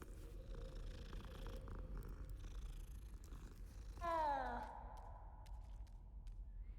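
A cat in the video game Hogwarts Legacy purrs with a soft, continuous low rumble, broken halfway through by a short rising and falling call that sounds like a meow.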